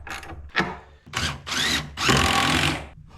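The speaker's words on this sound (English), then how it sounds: "Drill my dumb hole." A power drill bores into wood while a chicken shelter is built, with several separate revving bursts of rising whine and grinding, close and fairly loud, with short pauses between them.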